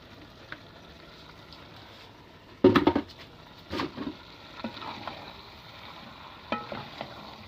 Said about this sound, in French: On est en train de brasser